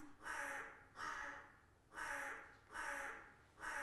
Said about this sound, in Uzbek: endi qarg'ani tovushini eshitib ko'ramiz